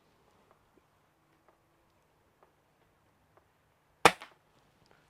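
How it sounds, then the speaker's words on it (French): A cheap toy pistol fires one sharp, loud snap out of near silence, surrounded by faint scattered ticks and clicks. "Impeccable, mon petit pistolet pour vraiment pas cher."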